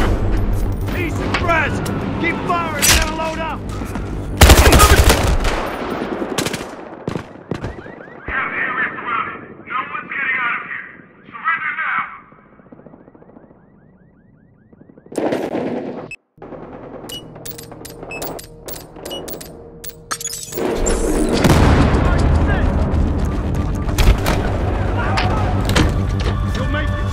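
Gunfire and explosions in the video game Battlefield Hardline, loud bursts of shots and booms with a quieter lull in the middle, mixed with voices and game sounds.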